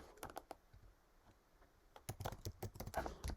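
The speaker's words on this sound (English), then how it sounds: "I'm going to type in Floriani." Keys tap on a computer keyboard in quick bursts, sparse at first and then a denser run of close, crisp typing.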